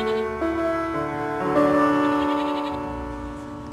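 Sheep bleat repeatedly in a pastoral flock setting, several wavering cries overlapping one another over a steady tonal music bed, no talk.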